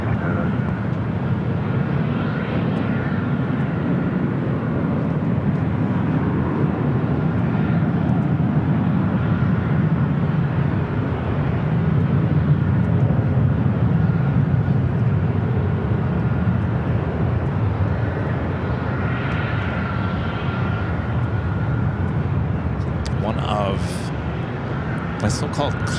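Jet airliners roar steadily on a runway at Los Angeles LAX airport, a broad sustained engine rumble lasting the whole stretch, with tower radio chatter faintly over it.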